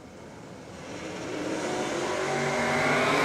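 A drag race launch at Willowbank Raceway pits a VL Commodore against a Torana, with engines roaring loudly and rising steadily in pitch and volume as the cars accelerate away.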